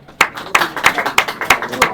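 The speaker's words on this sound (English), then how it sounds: "Can we give him a round of applause for that?" Roughly six sharp, evenly spaced claps ring out in a steady rhythm at a Nigeria vs Zimbabwe official press conference, greeting Nigeria's head coach after his winning debut match.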